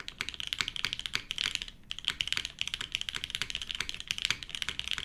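A heavy mechanical keyboard with its spacebar modified clatters under quick, steady typing, close and crisp, with dense rhythmic keystrokes, a brief pause near the two-second mark and no voices.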